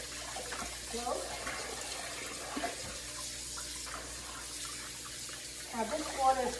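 Seitan flour dough being kneaded and washed by hand in a bowl of water, with soft sloshing and squelching splashes close by under quiet talk.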